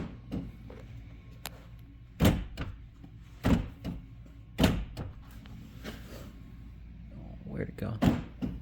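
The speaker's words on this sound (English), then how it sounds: "the most satisfying door lock sounds I think I've ever heard" Power door locks on a 1987 Mercury Grand Marquis clunk shut in several separate loud thunks spread a second or so apart, with a quiet interior hum underneath.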